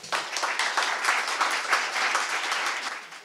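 An audience claps steadily and densely for a few seconds after a lieutenant governor finishes a speech. The applause is even and full, with no one talking.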